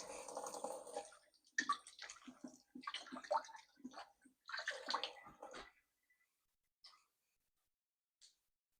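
Water runs from a kitchen tap into a pot, which will be used for boiling water for mac and cheese. The steady gushing and splashing lasts several seconds, then cuts off, leaving a few faint drips.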